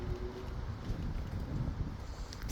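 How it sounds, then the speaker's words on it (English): Gusty wind on a windy Halloween day buffets the microphone in a steady low rumble, with soft rustling throughout and no talking. "But it's windy on Halloween."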